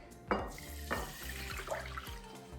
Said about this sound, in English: So I'm gonna go ahead and dump this in, add the water